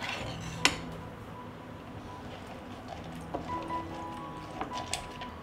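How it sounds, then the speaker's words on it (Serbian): Glass jars are handled and set into an oven while fruit and carrots cook, giving a sharp clink early on, then scattered light knocks and clinks against a quiet kitchen background. "Dok se voće kuva, tegle odnosim u rernu na 100 stepeni 30 minuta."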